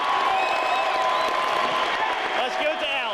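A stadium crowd cheers and applauds Alan Trammell in his Tiger uniform as he waves his hat before another at-bat. The roar is loud, dense and sustained throughout, with whistles rising over the steady wash of clapping and shouting.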